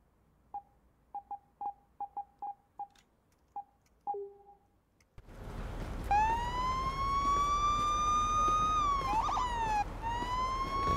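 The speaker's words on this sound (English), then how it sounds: "Emergency lights, toggle sirens on 2" Police car siren in the video game Police Simulator: a few short electronic blips, a pause, then a loud wailing siren that rises and holds, dips briefly, and carries on over a low engine hum.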